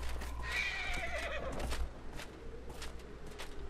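A horse whinnies in a loud, shrill, wavering neigh amid the Dragon Age: Inquisition game world, followed by soft hoof clip-clop and low ambient rumble.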